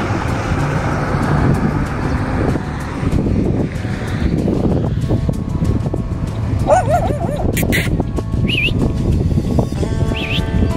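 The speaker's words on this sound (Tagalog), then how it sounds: "Nagre-reklamong aso, oh." A dog barks and whines beside a river, with a few sharp barks later in the stretch over constant loud rushing wind and water noise.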